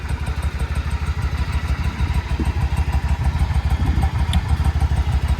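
A Yamaha V-Star 1100 Custom V-twin fitted with Cobra slip-on mufflers idles close by, a loud, steady, lumpy low-pitched thumping with no talk.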